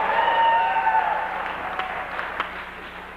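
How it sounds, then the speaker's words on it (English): Audience at a 1996 Bolivar High School sports banquet giving a round of applause, a soft, diffuse clapping that swells early and then tapers off, with a few sharper claps standing out near the end. "So she deserves a round of applause."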